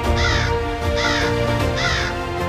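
Three evenly spaced, harsh caws from an old crow, each about half a second long, loud and close over a steady background bed.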